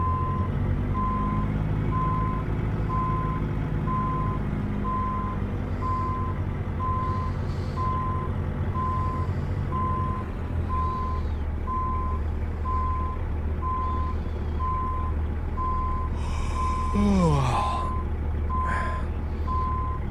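Truck in American Truck Simulator reversing a long trailer, with a steady pulsing backup beeper over constant diesel engine rumble, and a brief hiss of air release near the end.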